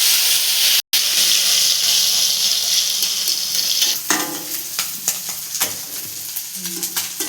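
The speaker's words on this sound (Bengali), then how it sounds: "তেল গরম হয়ে গেছে, এবার মাছগুলো তুলবো।" Small puti fish fry in hot oil in a kadai, a loud continuous sizzle that later breaks into crackling spatter and scraping stirs, heard up close without any talking.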